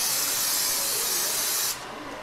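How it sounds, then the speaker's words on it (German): Cheap spray adhesive hisses from a can in one continuous bright burst onto a model spruce tree, stopping abruptly near the end and leaving quiet room tone. "wird unser Bäumchen schön mit Sprühkleber"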